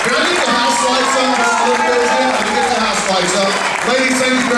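A large audience applauds and cheers for the contestants of a bikini competition at an awards ceremony, a dense, steady wash of clapping and crowd noise with a voice over a loudspeaker talking through it.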